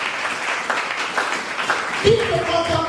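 A church congregation applauds during an Easter service, scattered clapping running under the room for a couple of seconds before a voice cuts in near the end.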